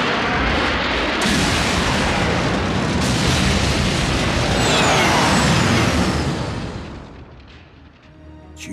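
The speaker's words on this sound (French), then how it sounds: "le bruit d'une explosion de 3 tonnes d'énergon" A massive, roaring explosion of 3 tons of energon in the Transformers: Prime cartoon rumbles continuously at high volume, a dense broadband blast that slowly fades away near the end.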